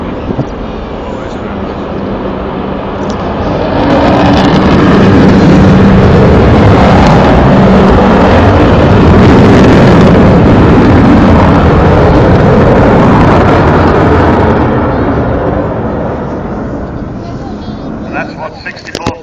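An Avro Vulcan jet bomber on its last flight, four Rolls-Royce Olympus engines at full thrust, roaring in a loud, swelling rumble that peaks midway and slowly fades; a voice talks over it.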